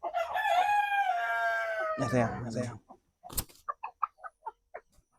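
On a farm raising imported chicken breeds, a rooster lets out a long, loud crow, followed by a series of short, clipped clucks and calls; someone speaks softly over the birds.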